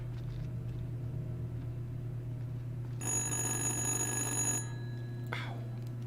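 In the horror game Little Hope, an old telephone rings with a bright metallic bell burst lasting over a second, loud over a steady low hum, followed by a quick faint swish.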